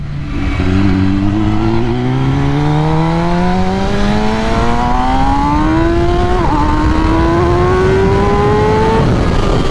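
A 2021 MV Agusta Rush motorcycle with a flash-tuned ECU accelerates hard, its loud engine note climbing steadily through the revs with a brief break at a gear change, then pulling higher again.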